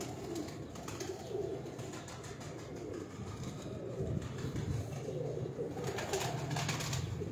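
Several pigeons coo softly in a low, throaty rolling rhythm, repeated throughout, outdoors in sunny weather with faint background noise and no talking.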